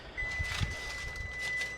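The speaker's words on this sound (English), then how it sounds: "That's our timer." A kitchen timer sounds a steady high-pitched electronic tone over a room murmur while sourdough sandwich bread proofs. It is fairly loud and lasts the whole moment.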